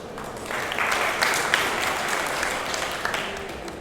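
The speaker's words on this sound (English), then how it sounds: "please first give yourselves a great round of applause" An audience at a digital summit panel in 2015 gives a round of applause, a full, even wash of clapping that holds steady for a few seconds.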